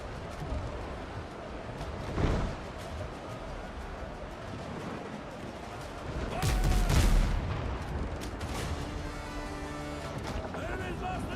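Enemy missiles fire in the Windrose naval video game, heavy booming blasts and rumbling impacts over constant sea and battle noise, with a louder surge midway and rattling debris afterward.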